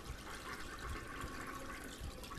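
A toilet flushes faintly in the background, a steady wash of rushing water at low level, with no voices over it.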